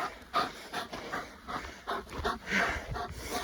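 A dog pants rapidly and close by, with short whimpers woven through the breathing in an uneven rhythm.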